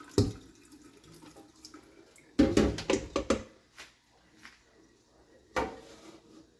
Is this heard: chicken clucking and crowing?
no